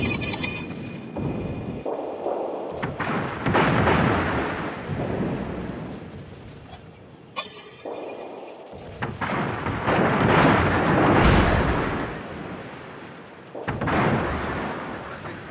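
Heavy naval gunfire in a World of Warships clan battle at tier nine, with repeated deep booming salvos and rumbling blasts overlapping throughout, loud and dense, with occasional voices mixed in.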